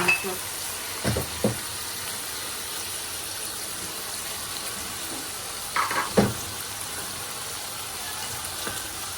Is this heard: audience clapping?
no